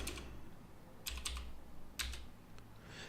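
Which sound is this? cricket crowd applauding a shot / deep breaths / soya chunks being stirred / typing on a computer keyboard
typing on a computer keyboard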